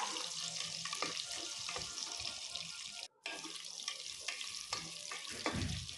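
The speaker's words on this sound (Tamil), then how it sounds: "ஐந்தாறு பல் பூண்டு ஒரு கத்து கருவேப்பிலை சேர்த்துட்டு வெங்காயம் நல்லா வதங்கி வரட்டும்" Onions sauté in a pan with garlic cloves and curry leaves, a continuous close sizzle with occasional stirring scrapes that drops out briefly midway, no voices over it.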